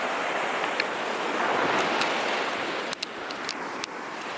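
Surf washing steadily onto a long beach at Montego Bay, Jamaica, a broad continuous wash with wind over it and a few faint clicks near the end.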